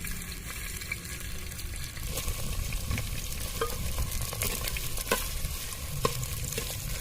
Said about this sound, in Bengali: পেঁয়াজটা আমি মিনিট দুয়েকের মতন ভেজে নেব